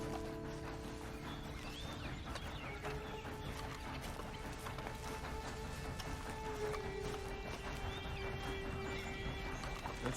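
Horse sounds from Red Dead Redemption 2, a whinny and clip-clopping hooves heard faintly and steadily against game ambience and background music, with farmyard fowl clucking somewhere in the mix.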